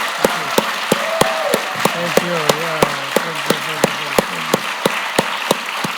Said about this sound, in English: please join me in applauding these star chefs